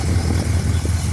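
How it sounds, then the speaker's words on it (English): A rebuilt Chrysler 440 V8 idles in a 1974 FMC 2900R motorhome, a steady, loud, low rumble that holds even and unbroken with no voices over it. "you can hear the engine purring nicely"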